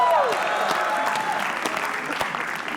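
An audience at a comedy roast show applauding a comedian, a dense burst of clapping and some cheering that starts loud and gradually eases, with a voice briefly heard over it.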